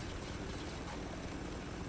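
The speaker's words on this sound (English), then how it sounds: "There's so many helicopters in the desert." Helicopters over a desert in the video game Spec Ops: The Line give a dense, steady rotor-and-engine roar that fills the whole stretch at an even loudness, with no voices.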